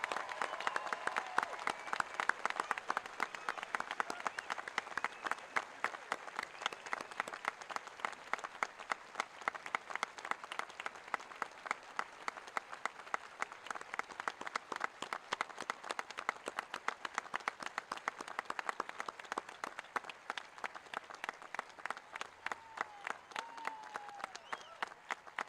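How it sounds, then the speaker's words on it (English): An audience applauds at a high school graduation ceremony, a dense, steady wash of many hands clapping that carries on evenly for a long stretch, heard from some distance in a large space. "Let's give these fine young men and women a big round of applause."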